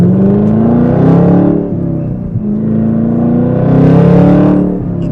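A Chevrolet ZL1 Camaro engine revs hard while driving, two loud rising surges of engine roar separated by a brief dip, close and dominant with no talk.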